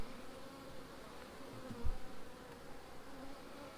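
Honey bees buzz softly and steadily around an opened production hive during an inspection in Jamaica, a low continuous drone with one brief louder thump near the middle.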